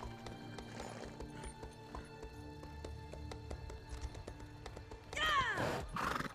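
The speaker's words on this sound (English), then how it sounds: "You're a cat riding a horse" A horse galloping in The Elder Scrolls Online, steady rapid hoof clip-clops over game ambience, ending with a loud whinny near the close.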